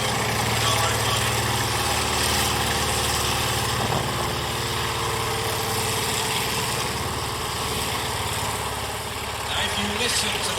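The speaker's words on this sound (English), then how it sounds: "if you listen to that go past, that's an aeroplane engine in the back. It's a radial engine." An M3 Grant tank with a radial aeroplane engine in the back driving past at Tankfest, Bovington, a steady loud mechanical drone with rattling and clatter that holds throughout, mixed with crowd and public-address talk in the background.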